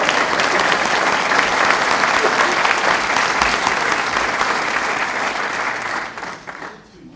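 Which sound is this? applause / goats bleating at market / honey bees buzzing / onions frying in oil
applause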